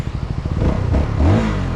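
A 2023 CFMOTO motor scooter engine revs up close, a low throbbing idle rising into a brief accelerating whine over under two seconds.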